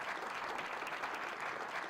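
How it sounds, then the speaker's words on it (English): Steady audience applause fills a conference hall at an AI-and-finance panel, dense and continuous at moderate loudness throughout, with no other sounds standing out. "A round of applause for John, please."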